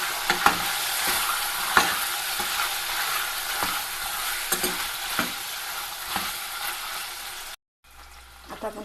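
Chicken pieces with ginger-garlic paste frying in oil in a pan in a Kokan village kitchen, stirred with repeated scraping strokes over a constant sizzle, then a brief cut to silence and a quieter sizzle.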